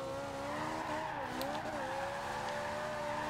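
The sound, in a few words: Ferrari engine and tire squeal in Forza Horizon 2 video game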